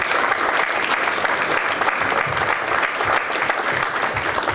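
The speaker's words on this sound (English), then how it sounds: "Big round of applause for Patrick Kelly, everyone." Steady applause from a large crowd, dense clapping that stays loud and even throughout with no pauses.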